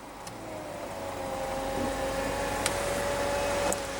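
The retractable hardtop of a 2015 Mercedes-Benz SLK with a 1.8 L turbo four-cylinder closes with a steady, rising electric motor whine and hydraulic hum, broken by a few faint clicks and latch knocks, with no talking.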